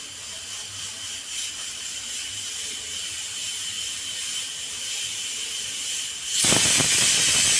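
Steam hisses continuously from a pressure cooker cooking greens on a kitchen stove. A sharper, louder burst of steam comes near the end, with no talk.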